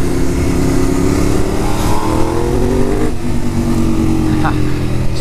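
A Ducati 848 motorcycle engine revs steadily up close, with a loud, continuous drone that rises and falls in pitch across the clip.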